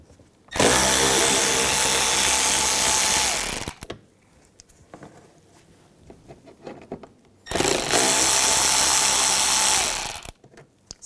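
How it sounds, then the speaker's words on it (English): A power tool with a T25 socket spins out inner fender well screws on a 2011-2018 Volkswagen Jetta, giving two loud, steady whirring bursts of about three seconds each, separated by quieter handling and clatter. "Now on the inner fender wells, we're going to take these screws out."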